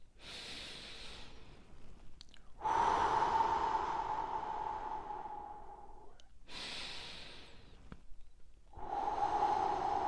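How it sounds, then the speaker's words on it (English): Three big, deep breaths taken slowly and close up, each a long airy inhale and exhale separated by brief quiet pauses, with no talking over them. "we're going to be starting with, as usual, 3 big deep breaths"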